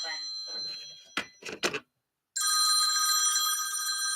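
A telephone rings loudly with a steady electronic bell tone that starts suddenly and keeps sounding, after a man's short spoken phrases and a brief pause.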